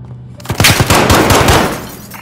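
Automatic gunfire in the Call of Duty: Modern Warfare campaign at Piccadilly Circus in London, a loud rapid burst of about a dozen close shots fired in quick succession, then fading.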